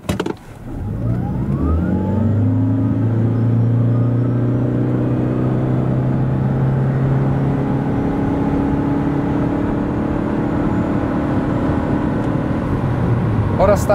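A Suzuki Swace Hybrid 1.8 with 122 hp accelerates hard from standstill to 100 km/h in sport mode, its engine drone rising steadily and loud under rolling road noise throughout.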